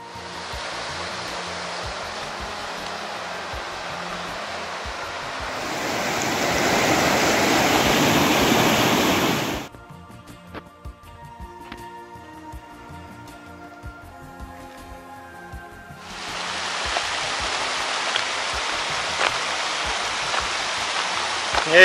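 Steady broadband rushing of a mountain stream in the Tatra Mountains, swelling louder for a few seconds, dropping away to near quiet, then returning strong and continuous.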